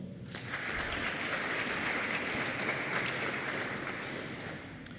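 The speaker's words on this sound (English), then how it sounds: "I think we deserve to give ourselves a very round of applause" Audience applause at a national identity document launch ceremony, a steady wash of clapping from a sizable crowd lasting about five seconds, moderately distant and without speech.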